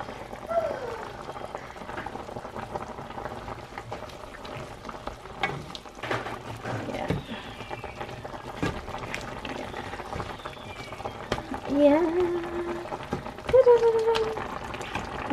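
Vegetables boil in a pot, a soft, continuous bubbling and gurgling with occasional stirring noises, and faint voices rise briefly near the end.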